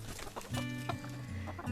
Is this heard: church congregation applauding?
no